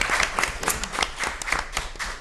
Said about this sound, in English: So just a round of applause to them for all of their great work.